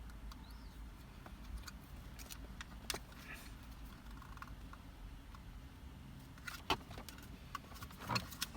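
Car keys for a 2008-2012 Ford Escape jangle and clink in short bursts, with a few sharper metallic knocks near the end, fairly close over a low steady hum.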